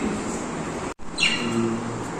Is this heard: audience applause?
no